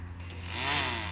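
A portable electric trimmer runs with a steady close motor hum that rises slightly in pitch partway through, heard alone.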